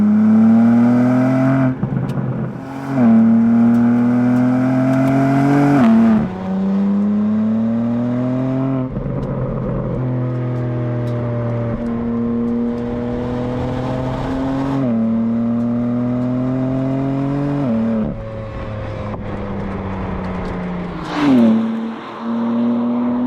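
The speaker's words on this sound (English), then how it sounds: "Now I'm going to give you a bit more of a listen to the exhaust." A 2023 BMW M4 Competition with a titanium exhaust revs through several gears outside, each pull rising in pitch before dropping at the shift, loud and nearby with brief pauses between runs.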